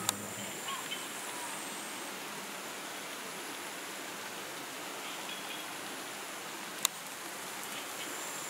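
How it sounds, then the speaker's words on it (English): Heavy rain pours down on a West Papuan forest, a dense, even hiss of drops on foliage that continues without a break, with a couple of sharp faint knocks. "Hujan besar."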